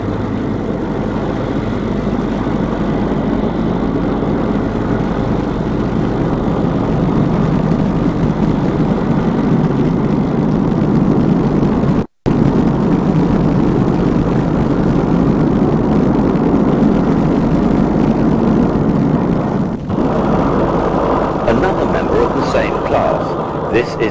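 A diesel locomotive from the early 1960s, back in Birmingham after working the daily Pullman service, runs with a steady, loud, unbroken drone that cuts out for a moment midway through.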